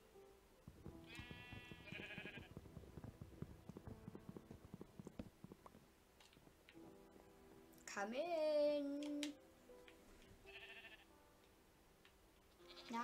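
Goat in the video game Minecraft giving a short bleat, with clicking footsteps and rain-like ticking beforehand, while a person says a few words.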